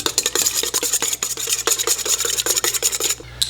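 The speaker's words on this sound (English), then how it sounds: "I'm gonna whisk those eggs together real quick." Eggs whisked briskly in a bowl for cornbread batter, a fast steady scraping and clinking rhythm, close and fairly loud, with no talking.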